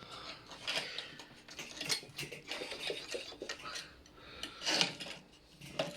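A wooden letter is cut by hand for a child's wooden toy, giving a series of close, quiet rasping strokes in an uneven rhythm. No voices are heard.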